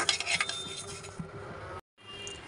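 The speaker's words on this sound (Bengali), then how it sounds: "শুকনা মরিচগুলো আমি একটু হালকা গরম করে নেব" Dried red chillies lightly roasted in a dry pan, with quick close rattling and scraping strokes that fade into a soft hiss, then break off in a brief silence before resuming faintly.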